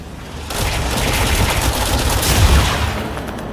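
Video game gunfire: a dense, continuous burst of automatic shots blending into a loud roar for several seconds, with no talk.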